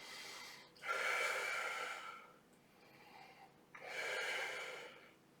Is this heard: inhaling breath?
yes